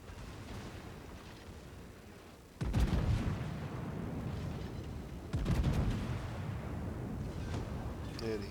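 Heavy naval guns boom in World of Warships as an enemy battleship is destroyed. Two loud, deep blasts with rumbling tails sit over a steady low background roar.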